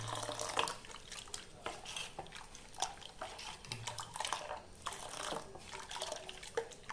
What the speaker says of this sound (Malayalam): ഇനി കുറച്ച് ചൂടുവെള്ളം കൂടെ ചേർത്ത് കൊടുക്കണം.